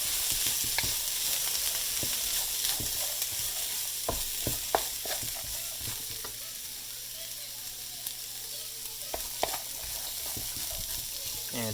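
Vegetables stir-fried in a hot pan give a steady close sizzle, with repeated clinks and scrapes from the utensil tossing them about. No voices.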